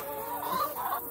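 Several chickens cluck softly and continuously at close range inside their coop, a steady murmur of fowl sounds with no other voices.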